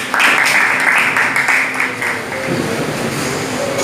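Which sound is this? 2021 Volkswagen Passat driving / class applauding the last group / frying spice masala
class applauding the last group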